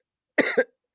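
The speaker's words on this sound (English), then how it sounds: "let me cough real quick" A person coughs twice close by, a harsh rough burst followed by a second shorter one after a brief pause.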